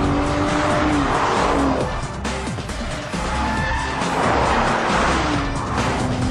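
A BMW Z4 3.0 and an Audi TT Mk2 3.2 race with ESP off, engines roaring loudly and continuously close by while tires squeal and skid through the corners.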